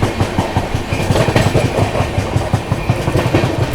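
The 12556 Gorakhdham SF Express runs near Firozabad while overtaking the Purushottam Superfast Express. Steady, loud clickety-clack of wheels over rail joints repeats in a fast rhythm under a broad rumble, heard close without speech.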